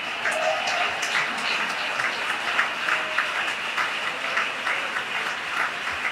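A church congregation applauds during a worship service, a steady wash of many hands clapping at moderate distance for several seconds.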